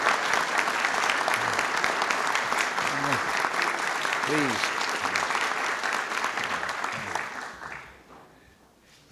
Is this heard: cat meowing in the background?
no